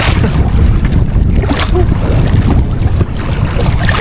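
Strong wind buffets the microphone over the rush and slap of waves, a loud, constant roar at sea aboard a squid-fishing boat at dusk, with a faint voice underneath.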